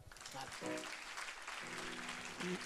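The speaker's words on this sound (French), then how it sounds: "Tu peux acclamer le Seigneur" A church congregation at a Pentecost sermon claps and cheers in acclaim, a dense wash of applause heard faintly with voices and singing-like tones mixed through it.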